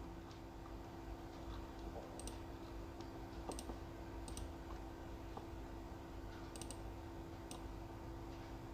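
Sparse, light computer mouse clicks over a steady hum, roughly a dozen scattered single and double taps spread evenly through the stretch, nearby and quiet, no talking.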